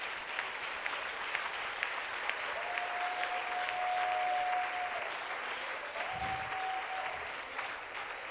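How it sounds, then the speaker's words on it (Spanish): Church congregation applauding together, a continuous wash of clapping that holds steady throughout, moderately distant, with faint background tones. "Aplaude si va a aplaudir,"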